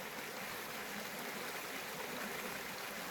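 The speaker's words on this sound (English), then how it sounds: "I've just been listening to this little creek." A small creek beside a hiking trail near Punchbowl Shelter flows in a steady, close, even babble that neither rises nor fades.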